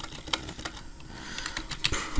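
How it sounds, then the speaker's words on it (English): Key clicks from typing on a physical keyboard attached to a Windows 10 Mobile phone running a pre-release build, a loose run of light, quiet taps spread unevenly over a couple of seconds in a quiet room. "Notice that Windows Phone recognizes that I have a keyboard attached and the on-screen keyboard disappears. Let me type something."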